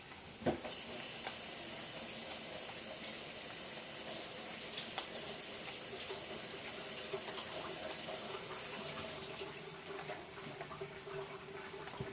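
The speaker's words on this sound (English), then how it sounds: "going to rinse them off really good" Mushrooms rinsed under running tap water, a steady close hiss and patter of the stream with the flow shifting as the mushrooms are turned beneath it.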